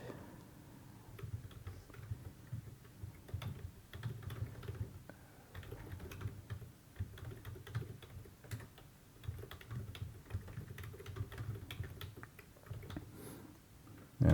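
Keys clatter on a computer keyboard in quick, irregular bursts of typing, soft and close, continuing steadily for several seconds with brief pauses.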